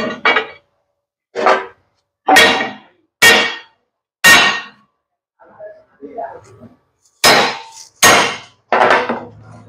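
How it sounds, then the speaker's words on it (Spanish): A steel punch is hammered into a leaf spring from the rear pack of a Ford Cargo 1721 truck during welding work: about eight sharp, ringing metal strikes close by, spaced roughly a second apart, with a short softer clatter midway. "Aplico el punzón."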